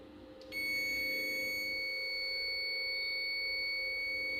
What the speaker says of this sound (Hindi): जैसे मैं इन टर्मिनल के साथ कनेक्ट करूँगा तो बीप सुनाई